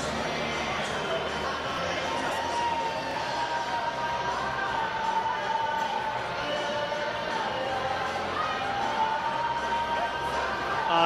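An ice hockey arena crowd stirred up after a goal and a fight in a British league game, a steady wash of cheering and chatter throughout, with a commentator talking over it.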